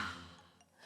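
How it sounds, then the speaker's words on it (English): A single soft, close inhalation of breath during a children's yoga breathing exercise, faint and airy, swelling briefly before tapering off. "Let's breathe in."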